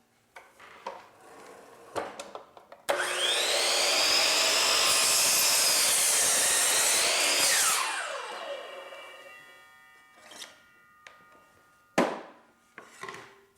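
A miter saw spins up with a rising whine and cuts through a wooden board for several seconds, then winds down, with clicks and knocks of handling before and after.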